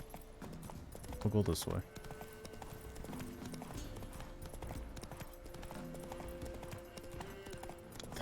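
Hooves of Roach, a horse in The Witcher: Wild Hunt, clip-clop steadily in a continuous rhythm over a game soundscape, with a short loud burst near the start and someone speaking briefly over it.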